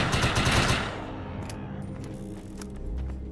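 A loud burst of rapid gunfire in the shooter Defiance 2050, dense crackling shots at the start that fade into a rumbling tail and scattered fainter reports.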